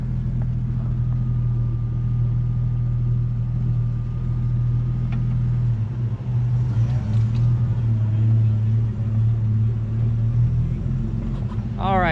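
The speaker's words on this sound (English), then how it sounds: "we're gonna ride around the show floor in this really cool Tempest of Craig's" Classic Pontiac Tempest idles and rolls slowly across an indoor convention show floor, a steady deep engine rumble dominating throughout, with faint background chatter and a brief higher squeak near the end.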